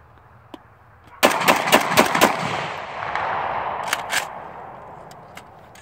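Several of the speaker's own firearms fire in a fast burst of about five sharp, loud shots, then a couple of later shots as the reports echo and ring out outdoors.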